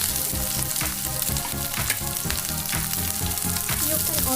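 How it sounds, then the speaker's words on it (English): Onion and capsicum for cashew chicken stir fry in a hot pan, a loud steady sizzle with rhythmic tossing and scraping of the utensil, close up, over background music. "You're going to stir fry all the vegetables."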